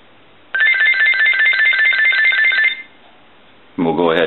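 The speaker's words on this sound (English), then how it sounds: "we'll go ahead and ring the telephone. We'll let that go a few times." A GE Cordless 6.0 telephone, model 27909EE1-A, rings under test with a loud electronic warble that trills for about two seconds, falls silent, then starts another ring.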